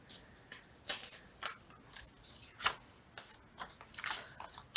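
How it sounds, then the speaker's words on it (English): Crunchy, wrinkly paper handled close up during a craft session, giving sharp crackling bursts and soft rustles at irregular intervals over a quiet background. "I love how wrinkly this paper goes. It's got just a really nice feel about it. It's very crunchy"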